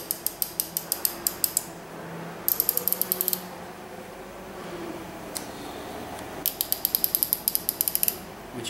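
A GENIUS Tools 72-tooth ratchet clicking in rapid, fine bursts as it is turned in both directions, close and crisp, with pauses and a softer mechanical creak between runs of clicks.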